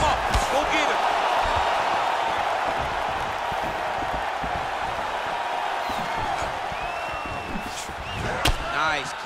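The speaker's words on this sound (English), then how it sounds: "you can hear the crowd reaction every time he lands another hook" A fight-game arena crowd from EA Sports UFC 4 roars and murmurs steadily at a distance, with a few sharp thuds of landed hook punches cutting through near the end.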